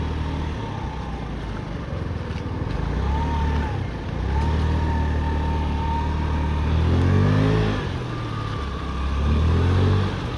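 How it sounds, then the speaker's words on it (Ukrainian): A Honda Dio AF68 scooter engine runs steadily at idle with a low rumble, briefly revving up a couple of times near the end. "Двигун працює приємно."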